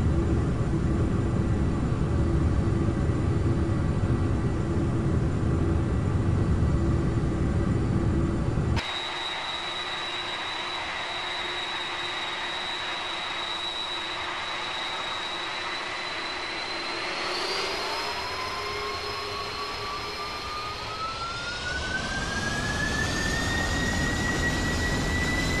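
Boeing 747 jet engines in a flight simulator spool up for takeoff, starting as a steady rumble, then rising into a whine whose pitch climbs over a sustained, moderately loud roar.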